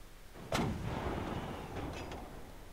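A single loud gunshot cracks out in the Unturned WW2 mod video game, followed by a long rumbling echo and a couple of fainter distant shots. No voices are heard.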